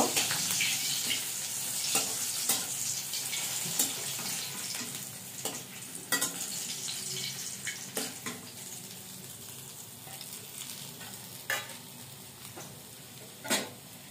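Whole hilsa fish frying in hot oil in a home kitchen, a steady soft sizzle with crackling pops and occasional sharper spatters near the pan, no voices.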